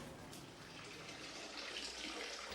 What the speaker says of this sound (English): The water of this tap isn't suitable for drinking.